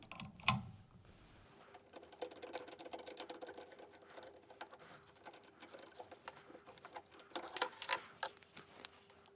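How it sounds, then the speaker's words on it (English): A 10mm socket ratchet works the nut holding the fan on a Hoover tumble dryer, giving rapid, fine metallic clicking that patters on and off through the clip, with a louder clack near the start and a brighter burst toward the end. "you need to take the nut and the washer off that holds it in place using a 10mm socket set"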